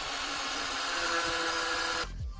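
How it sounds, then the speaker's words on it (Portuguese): A power tool cuts off protruding bolts on a 3D-printed skateboard, making a steady, loud, high whine that runs unbroken for about two seconds and then stops abruptly. "consegui cortar bem os parafusos, então já não sobressaem"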